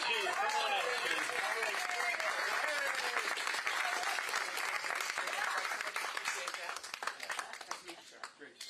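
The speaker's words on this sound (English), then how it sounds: "let me share with you just a big round of applause to the chief" A crowd at a New Hampshire voter town hall with Mike Pence applauds the police chief with loud, dense clapping under overlapping talk, the applause gradually thinning into scattered claps toward the end.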